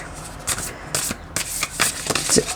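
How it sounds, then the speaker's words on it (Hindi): Tarot cards being shuffled by hand close up, a series of crisp riffling bursts and soft rubbing flicks repeating every half second or so, with no one talking. "एक बार फिर से शफल करने पड़ेंगे"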